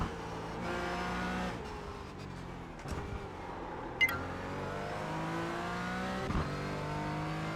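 A race car in the iRacing simulator brakes hard and drops down through the gears to second, engine pitch sweeping up and falling in quick blips, with a brief sharp click partway through and a steady engine drone throughout.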